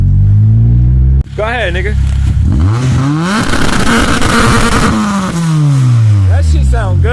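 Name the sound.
car with K24 engine revving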